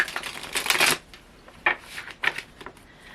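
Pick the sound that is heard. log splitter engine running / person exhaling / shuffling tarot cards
shuffling tarot cards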